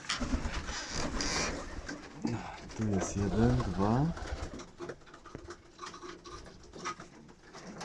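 Pigeons bought at a racing-pigeon auction coo in a strong, rhythmic burst of rolling calls at close range, with someone speaking briefly over the cooing and more bird sounds and handling noise after it.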